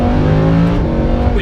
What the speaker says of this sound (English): This is no doubt going to be one of the last naturally aspirated V10 engines in a mass-produced sports car.